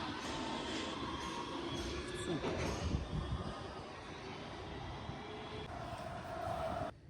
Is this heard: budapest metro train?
yes